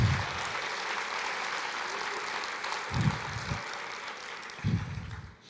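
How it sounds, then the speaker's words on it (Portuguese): A church congregation applauding during a sermon, a steady wash of clapping across a large room, moderately loud, with a few low thumps breaking through. "Você pode aplaudir o Senhor e dizer: eu creio."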